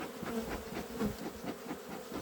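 A dense, steady buzzing of many honey bees at a hive close by, humming continuously with slight swells in loudness and no voices.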